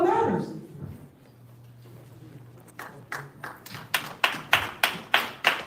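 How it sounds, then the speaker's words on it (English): Hands clapping from across a community meeting room: a slow, accelerating series of sharp claps that grows louder and more regular, following a low steady hum and a brief muffled voice at the start. "there are people on the other side of the room clapping"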